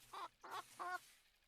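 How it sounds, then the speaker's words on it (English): A video game chicken clucks three times in quick succession, short distinct calls that are faint and clean against a quiet background. "we hear the chicken"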